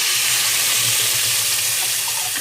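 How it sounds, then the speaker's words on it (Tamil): Homemade vadagam tempering crackling in hot oil for a village-style fish kulambu, a loud continuous close sizzle with a steady hiss and no talking. "எண்ணெய் காஞ்சிடுச்சு. தாளிப்பு வடகம் போட்டுக்கலாம், வீட்டில் செஞ்சது."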